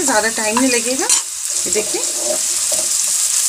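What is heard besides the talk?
cumin seeds sizzling in hot oil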